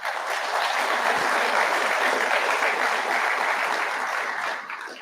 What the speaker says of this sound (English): If y'all would give them another round of applause.